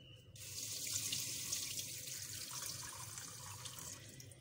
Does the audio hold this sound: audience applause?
no